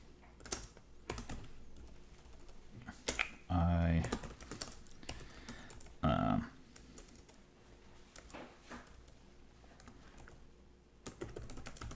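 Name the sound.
typing an email template on a computer keyboard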